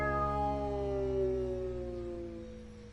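A cat meows in the game Dreams, a single long, drawn-out wailing call with a steady pitch that swells slightly and then slowly fades, heard alone.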